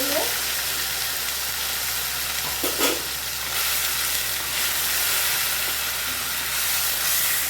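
Chopped tomatoes and ginger-chili paste sizzle loudly in a hot pan, a steady close frying hiss broken by a few stirring scrapes.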